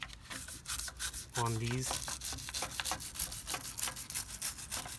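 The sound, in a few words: brush scrubbing brake dust off car wheel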